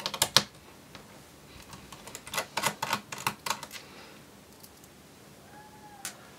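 Small screws being worked out of the base of a Dell Inspiron 15 3501 laptop, heard as a run of sharp, close clicks and ticks that come in irregular bursts, with no talking.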